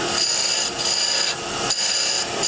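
Wood turning on a lathe with a parting tool rolling beads into the spinning workpiece, a steady, bright rasping cut that runs continuously, with brief dips in intensity where the tool lifts and re-engages.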